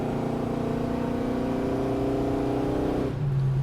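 A 1970 Chevrolet Chevelle restomod engine roars steadily at about quarter throttle with a throaty, climbing tone, then drops back abruptly to a lower idle-like rumble.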